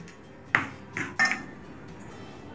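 A spoon scrapes and taps against a greased tray while leveling a besan mixture for mohanthal barfi, giving three distinct metallic clinks, close and clear against a quiet kitchen background.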